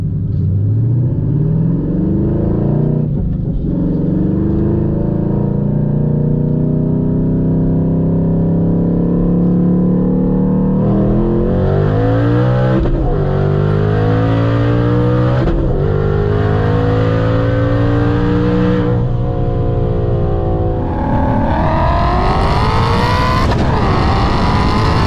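A twin-turbo Mustang roll racing against a V8 Miata, with loud engines droning and rising in pitch through repeated gear-like surges of revving acceleration, close and continuous, with no talk.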